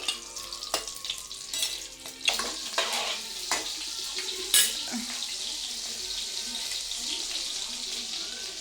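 Butter sizzling and frying in hot oil in a pan for jeera rice, a steady crackle with occasional sharp pops and stirring clatter throughout, no speech.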